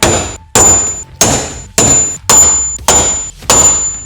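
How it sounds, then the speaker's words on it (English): Seven sharp metallic center punch strikes marking drill hole locations on a RAM ProMaster van, evenly spaced and loud, each with a bright ringing tone that decays before the next blow. "I'm actually going to mark the center locations of these drill holes with a punch"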